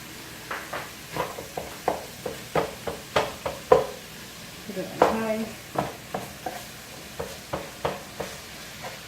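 Ground meat browning for lasagna sizzles steadily in a pan, broken by a regular series of sharp scraping and stirring knocks from a utensil, close and moderately loud.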